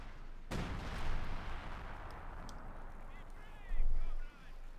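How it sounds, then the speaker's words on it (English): Howitzer artillery in Company of Heroes 2 booms with a sharp loud blast followed by a rumbling tail and another heavy thump later, amid battle noise, with a voice talking over it. "we got the howitzer unleashing hell again"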